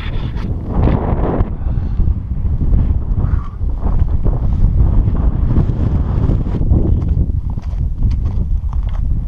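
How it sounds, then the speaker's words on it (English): Strong wind buffets the microphone on a mountain summit trail above 13,000 feet, a loud continuous roaring rumble with gusty surges, alone without talk. "Well, it's pretty windy up here."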